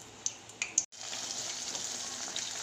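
Green chillies frying in oil for Ganesh Chaturthi pulihora, a steady hiss with a few sharp pops and crackles early on and a brief dropout before the sizzle resumes.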